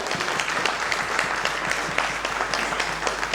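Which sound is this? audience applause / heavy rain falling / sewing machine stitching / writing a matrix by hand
audience applause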